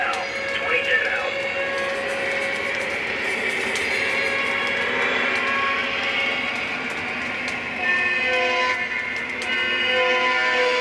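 A Lionel GE Evolution Hybrid model train locomotive pulling into the yard, with steady mechanical rumble, squealing braking sounds and whistle-like tones, close and fairly loud throughout.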